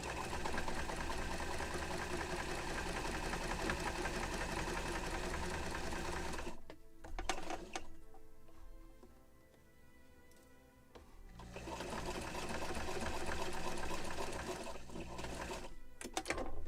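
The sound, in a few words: sewing machine sewing a seam of a model ship sail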